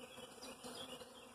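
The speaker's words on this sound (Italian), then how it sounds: "Questo è pieno di api operaio e pochi fuchi che abbiamo appena visto uscire" Honeybees, mostly workers with a few drones, buzz inside a hive super full of honey; a faint, steady, close hum over a brief moment.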